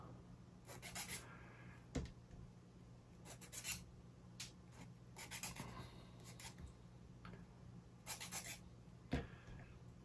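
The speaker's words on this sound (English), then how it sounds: "we're going through the same exercise, which is sanding the parts a little" Repeated rasping strokes of sandpaper on wooden parts of an UGears Windstorm Dragon 3D model kit, close and fairly quiet, coming in short bursts with brief pauses between them.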